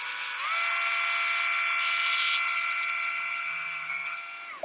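A rotary tool with a very fine 0.25 mm PCB drill bit bores a hole in a thin sheet, its motor letting out a steady high-pitched whine that spins up quickly, holds, then cuts off.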